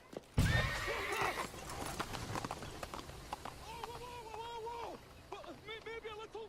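Horses in the video game Assassin's Creed Syndicate whinny repeatedly over a burst of clopping hooves, loud and close, with a voice speaking briefly among the neighs.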